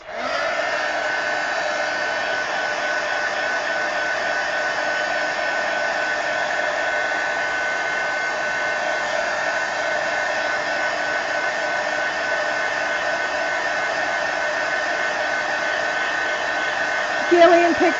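A hair dryer runs steadily on wet paint in an art journal for the whole stretch, a loud continuous whoosh that clicks off near the end.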